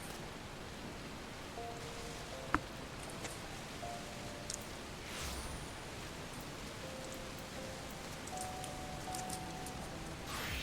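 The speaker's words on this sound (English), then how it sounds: "Oh, it's raining." Steady rain hiss in Final Fantasy XIV fills the scene, broad and even, with a few brief faint tones and a soft click over the constant downpour.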